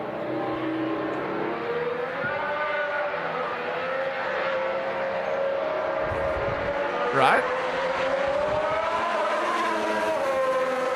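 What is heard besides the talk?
Formula 1 car engine passing on track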